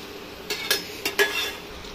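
Garlic sev frying in hot oil for a Diwali snack, with a soft continuous sizzle and a few quick metallic scrapes and taps as the strands are flipped, close and fairly quiet.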